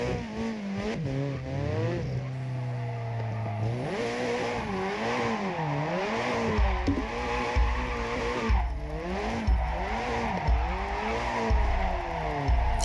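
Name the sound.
car drifting with tire squeal in a racing video game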